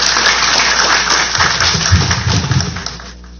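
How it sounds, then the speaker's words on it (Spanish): An audience at a national youth event in Peru claps in a dense, steady wash of applause that holds for a few seconds and then fades, with no speech over it. "Recibámoslo con un fuerte aplauso"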